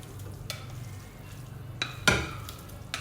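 Minced meat fries in a little oil in a pan, giving a soft, steady sizzle broken by a few sharp scrapes and clinks as it is stirred.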